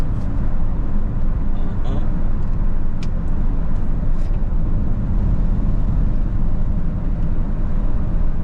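A car drives along a quiet road with one truck ahead and one behind, giving a steady loud broadband road and engine rumble throughout with a few faint clicks.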